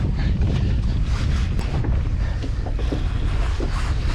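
Strong wind buffeting the microphone on a small paddled fishing boat out on the water, a constant heavy roar and rumble with no speech.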